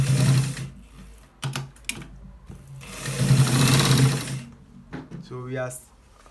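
A sewing machine runs in short bursts and one longer run while stitching a shirt collar, its close mechanical whir punctuated by clicks and pauses, with a person talking between the runs.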